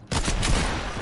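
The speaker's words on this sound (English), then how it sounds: "Oh, she's shooting." Rapid gunfire from a video game no-scope sniper battle, a dense burst of loud overlapping shots sounding continuously for about a second.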